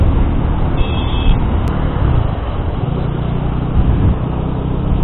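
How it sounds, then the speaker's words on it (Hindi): Steady road traffic in India along a motorcycle route from Mumbai toward Gir National Park, a continuous low engine and tyre rumble with passing cars and buses, moderately loud and unbroken, with no talk. "अभी ये ट्रैफिक शुरू हो चुका है"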